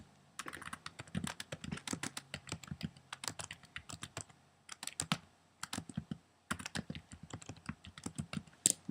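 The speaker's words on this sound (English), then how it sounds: "And you just type that in there." Computer keyboard typing in bursts of rapid, close, crisp key clicks with short pauses between runs, heard alone without talk while entering text into an online rubric.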